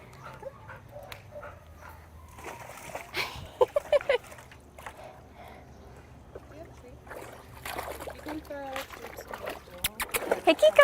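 Kiko the dog splashes in a backyard pool, intermittent wet sloshes and paddling bursts that grow busier toward the end, with a few small whimpers and people talking throughout.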